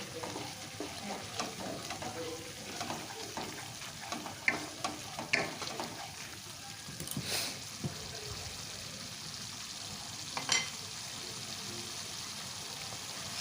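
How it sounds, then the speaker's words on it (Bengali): Spice masala for vegetarian green pea ghugni sizzling as it fries in oil, a steady close hiss with frequent stirring scrapes and a few sharper clicks and pops, no talking. "মশলাটা বেশ ভালো মতো কষানো হয়ে আসছে আস্তে আস্তে একটু তেল রিলিজ হওয়া শুরু হয়েছে"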